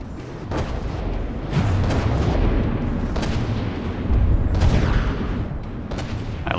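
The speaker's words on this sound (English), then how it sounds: "There goes the Cram Mortar." A Cram Mortar fires in the naval combat game From the Depths, with heavy booming blasts rising over a constant rumble of battle noise and no talking.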